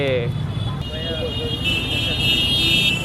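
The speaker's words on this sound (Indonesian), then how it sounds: "penuh klakson di mana-mana ya" Car horns blare in busy street traffic, with sustained tones over a rumbling road, while people talk nearby.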